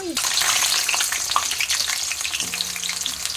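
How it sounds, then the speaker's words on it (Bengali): Potato pieces frying in hot oil in a home kitchen, a steady, close, loud sizzle crackling continuously throughout with no voices. "তেলটা গরম করতে বসিয়ে দিয়েছি এখানে অবশ্য আলু ফ্রাই করব"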